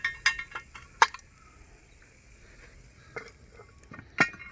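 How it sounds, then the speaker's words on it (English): A heavy lid is set onto a Dutch oven holding a pot roast, giving a few sharp metallic clinks, one near the start and another toward the end, over quiet kitchen background. "Now we're going to put the lid on this"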